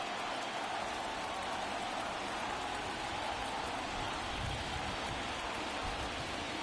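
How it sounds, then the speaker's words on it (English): Steady rain hisses without a break across a ballpark in a Franchise Stars Baseball League game during a Red Sox at Cubs World Series contest, an even, soft wash of falling drops with no voices. "It has rained pretty much from the get-go in this game, but not heavy enough to bring a pause to it"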